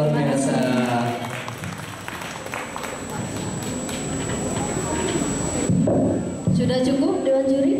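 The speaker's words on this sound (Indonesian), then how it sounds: "tepuk tangan sekali buat Mbak Rima, luar biasa" Audience applause for a karaoke singer at an anniversary celebration in Hong Kong, a dense stretch of clapping mixed with crowd noise and voices over the room's background music.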